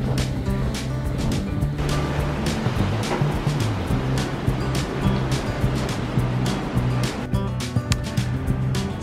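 Waves wash continuously at Wineglass Bay beach on Tasmania's Freycinet Peninsula, a loud, steady roar of surf and wind with a low rumble underneath and no voices.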